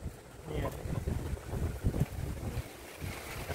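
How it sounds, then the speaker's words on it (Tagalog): Strong, gusty storm wind blowing past a home terrace under a dark sky, a steady rushing roar that swells and surges in uneven bursts, buffeting the microphone throughout. "Hangin na lang siya na malakas. Pabugso-bugso yung hangin."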